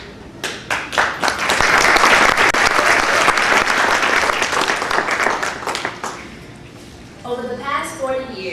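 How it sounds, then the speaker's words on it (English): Sustained applause from an audience at a tribute presentation to a civil rights leader, loud and dense for several seconds, tapering off before a voice begins speaking at the end. "we applaud you"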